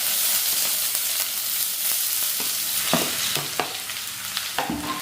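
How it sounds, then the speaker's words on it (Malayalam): Cabbage with mustard seeds and green chillies frying in coconut oil, a loud steady sizzle close by, with sharp spatters and a few clinks of a spoon against the pan. "കൂടെ തന്നെ നമ്മൾ അരിഞ്ഞ് വെച്ച് നമ്മുടെ ക്യാബേജ് ഒക്കെ ഉണ്ടല്ലോ ഇട്ട് കൊടുക്കാം."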